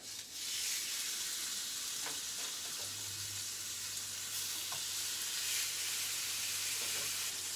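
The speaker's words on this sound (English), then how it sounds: "Get some butter in a nice griddle pan, get it piping hot before we add the steaks." Ribeye steaks sizzling in piping-hot butter in a griddle pan, a steady, bright frying hiss with occasional spits and pops, close and continuous with no talk.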